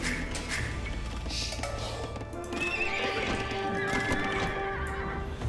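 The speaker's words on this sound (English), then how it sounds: "We have found some more of these horses," Several horses neigh and whinny in the video game Age of Empires 2, loud and close, with overlapping calls rising over busy game ambience and clatter, and no one speaking.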